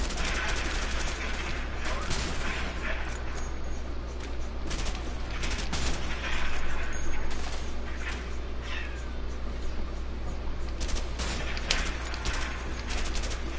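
Rifle and other gunfire crackle in the co-op video game A Way Out, a steady run of sharp, rapid shots and bursts under continuous background noise with no clear talk.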